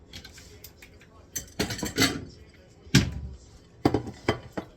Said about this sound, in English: I'm going to grab a plate